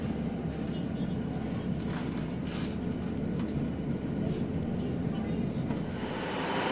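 Diesel train unit 156415 idles at Salford Crescent railway station, giving a steady, continuous low rumble with a broad hiss above it that holds level throughout.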